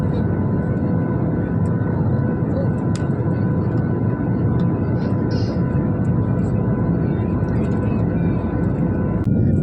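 Inside an airliner cruising over the UAE, the cabin carries a constant, dense engine and air roar with a few faint clicks and thumps scattered over it.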